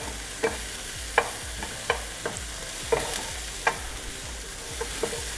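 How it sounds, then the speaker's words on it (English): Chopped onions fry in a pan for stuffed sweet bell peppers, a steady sizzle broken by about eight sharp scrapes of a spoon or spatula as they are stirred, close and without talk. "We want to get these onions nice and translucent before we add our turkey in there."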